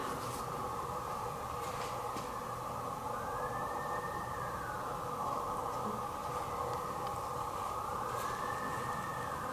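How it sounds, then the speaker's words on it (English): A distant siren wails faintly in slow rising and falling sweeps over a steady background drone, heard outdoors at night by a courthouse. "That's a siren."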